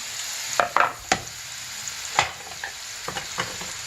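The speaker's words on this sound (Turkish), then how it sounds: "Şimdi sarımsak ve cevizin olduğu tavama atıyorum." Chopped food fries with garlic and walnuts in a hot pan while a utensil stirs and scrapes, a few sharp clacks standing out over the steady frying hiss.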